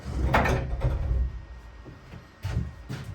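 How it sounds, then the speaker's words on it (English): A large heavy door on a boat's bow opens with mechanical thuds and grinding, in short bursts separated by a quieter pause, close by. "that's a nice way for the door to open"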